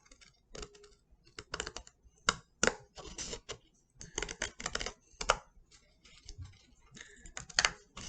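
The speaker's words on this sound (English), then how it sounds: "I'm going to take my scissors and I'm going to cut along where I drew the smiley face" Close, irregular snipping and crunching as children's scissors cut through paper along a drawn smiley face, with short pauses between cuts.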